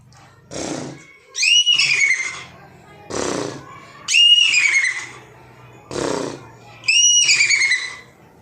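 A boy at a school in Kannolli, Sindagi taluk, Vijayapura, imitates a horse, alternating a breathy huff with a high, shrill whinny, repeated three times in a steady pattern, loud and close.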